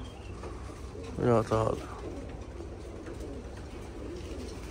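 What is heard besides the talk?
pigeons cooing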